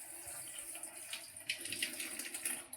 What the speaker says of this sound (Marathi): नळाचं काढतो टॅप बॉटल.